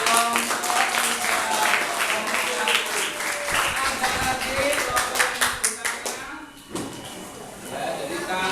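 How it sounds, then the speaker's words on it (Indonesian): Classroom applause for a student group, many hands clapping in a rapid, dense burst close by that tapers off and picks up briefly again, with voices mixed in. "Oke, tepuk tangan buat dong."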